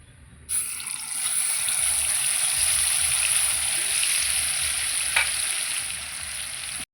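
Spice paste for cauliflower curry lands in a hot pan and bursts into a loud, continuous sizzling hiss that holds steady for several seconds, with an occasional stirring clink, then abruptly cuts off.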